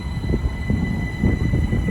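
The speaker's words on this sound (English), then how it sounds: "Now departing is the 13:03 Great Northern service from London King's Cross to Ely." A Great Northern train rolls out of Cambridge station with a low, steady rumble of wheels and motors, close and continuous throughout.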